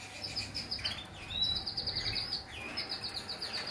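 Small caged birds kept for breeding chirp in quick high bursts, repeated close by at a moderate level, with no talk over them.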